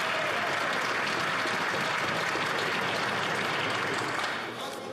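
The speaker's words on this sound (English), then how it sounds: "the Prime Minister got so much applause that I'm going to let him start over" Members in the House of Commons applaud the Prime Minister with sustained, dense clapping and crowd noise that stays loud before easing slightly at the end.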